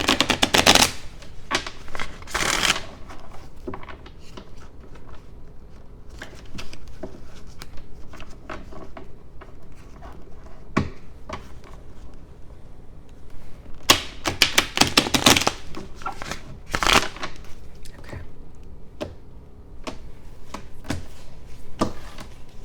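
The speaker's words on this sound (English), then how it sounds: "Let me go ahead and shuffle these as well first." A deck of cards shuffled by hand at a table, with repeated riffling bursts and crisp flicking runs separated by quieter pauses, close and clear over a faint background.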